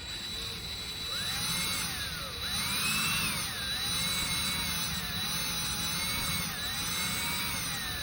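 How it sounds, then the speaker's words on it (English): A power drill bores holes into a dowel for guitar tuner bushings during a vintage Hohner Shark Fin restoration, its whining motor rising and falling in pitch close by with no talk. "we're going to drill a series of holes, and each one's going to be a ½ millimeter smaller in diameter"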